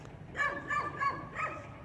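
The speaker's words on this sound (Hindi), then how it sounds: "ये कुत्ते भी काफ़ी ज़्यादा भौंक रहे हैं।" Dogs barking at a graveyard at night, a few rough barks spaced across under two seconds, moderately distant and fairly faint over a low background rumble.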